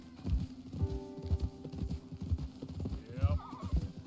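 In a video game, a horse's hooves clip-clop in an uneven trotting rhythm close by, while a short whinny rises near the end.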